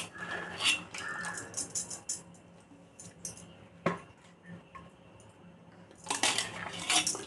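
Blanched cauliflower florets are tipped into a metal colander, giving close clattering and scraping metal sounds in bursts, with a louder clatter near the start and another at the end, with quiet gaps between.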